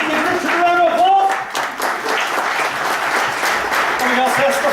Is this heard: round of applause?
yes